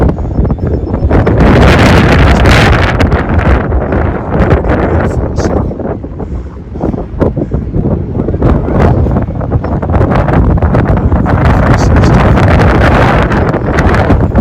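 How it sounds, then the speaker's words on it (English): Strong wind buffets the microphone in loud, continuous rumbling gusts on a mountain trail hike between Belden and Sierra City, broadband roar throughout with no talk. "Very windy, so you probably can't hear much"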